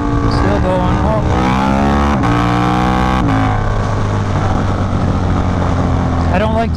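A KTM 1290 Super Duke motorcycle accelerates hard in third gear, its engine note climbing steadily in pitch, dropping briefly at shifts, then rising again, loud and close with wind rush.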